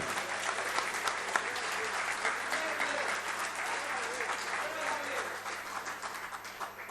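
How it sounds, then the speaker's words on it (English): A crowd in South Africa's Parliament applauds with sustained, dense clapping that holds steady throughout, with a few voices mixed faintly underneath. "give them a round of applause and wish them well"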